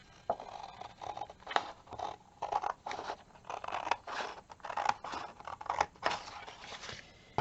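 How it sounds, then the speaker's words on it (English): Scissors cutting out craft paper, close crisp snips and crunchy paper rustle in irregular bursts, several cuts in a row with short pauses between them. "now I'm going to cut that out."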